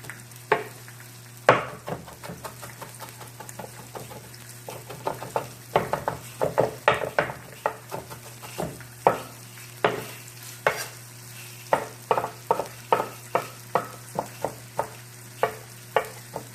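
Pork chops fry in a pan under a steady low hiss while a utensil stirs and scrapes, producing frequent sharp clicks and taps against the pan, close by and with no talking.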